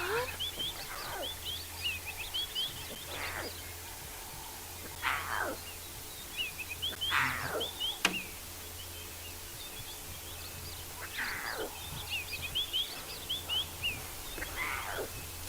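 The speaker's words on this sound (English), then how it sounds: "Tiny roaring lion in the making." A young lion cub in the South African bush calls again and again, giving short, rising, roaring cries a few seconds apart. The calls are fairly faint and far off over a low outdoor hum, with soft speech at times.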